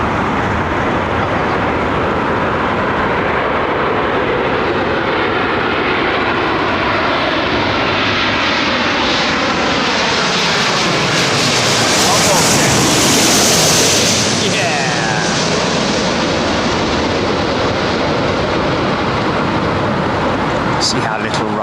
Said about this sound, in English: BA from Mumbai, 777.